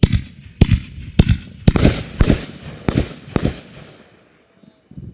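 Vintage Vehicle, a 20-shot Suns Fireworks cake in a backyard show, fires a series of loud sharp booms about half a second apart, each with a short crackling tail, and ends with a quiet pause.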